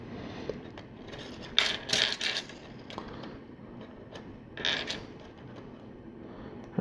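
LEGO garage door pieces for a Ninjago Destiny's Bounty set are snapped together, giving several short plasticky clicks and creaks in two clusters, close and quiet, with no talk.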